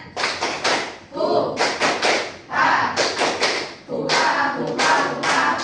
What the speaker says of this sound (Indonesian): 1, 2, 3. Tepuk semangat.